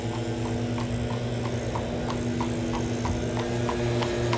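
Horse hooves clip-clop on pavement in a steady, even rhythm by Central Park in New York City in fall, set against a constant low hum of city traffic.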